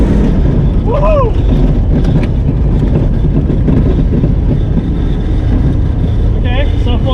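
Old Toyota Cressida driving laps around a track, its engine droning steadily and fairly loud from start to finish while people talk and cheer over it.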